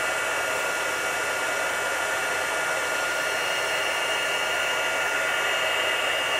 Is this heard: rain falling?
no